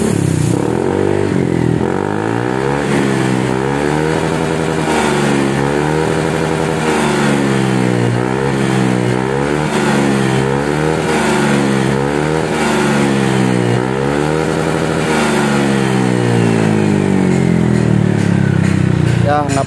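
A Honda PCX 160 scooter with its stock exhaust hollowed out and fitted with a stainless header pipe revs hard again and again, a loud, close, rasping engine rising and falling in repeated throttle blips over about twenty seconds.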